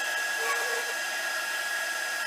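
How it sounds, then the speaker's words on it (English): A heat tool blows steadily while drying art journal medium on an upcycled planner, a continuous whirring hiss with a constant whine, close and unbroken, with no speech. "drying this with the heat tool, but I'm holding it way up high."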